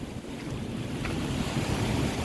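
Sea waves wash steadily onto Nam Rin beach at Ban Chang, Rayong, a continuous broad roar of surf mixed with wind rumble across the microphone, with no talking.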